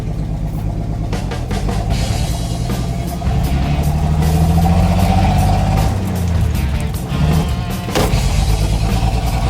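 A 1968 Dodge D100 pickup, parked for 25 years, drives for the first time in a long while, its engine running loud and steady throughout with a rough low rumble, the revs swelling and easing, and some sharp knocks and rattles.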